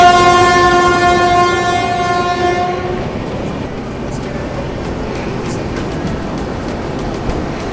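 The Farakka Express rolls into Barabanki Junction, a loud sustained horn blast giving way to the steady rumble and clatter of passing coaches.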